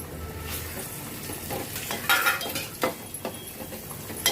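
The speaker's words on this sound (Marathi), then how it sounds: "आता ना स्लो गॅसवर ना जरासं असं परतून घ्यायचं म्हणजे तेल सगळं लागायला पाहिजे आपल्या ह्या मच्छीला" Boy fish pieces for an Agri-style curry are sautéed in masala and oil over a low gas flame: soft stirring scrapes and light clinks of a spoon against the pan over a faint sizzle.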